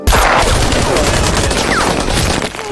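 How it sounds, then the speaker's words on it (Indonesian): Dense gunfire rings out in a film shootout between two armed squads, a loud rapid fusillade of overlapping shots with no talking. "hingga kembali terjadi adu tembak di antara kedua pasukan."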